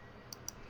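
Two quick, faint mouse clicks close together, crisp and isolated over a quiet background hum, made while pressing an OK button in Adobe Premiere Pro editing software.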